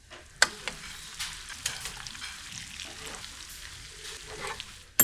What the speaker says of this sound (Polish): Umieść smażonego łososia na patelni z sosem.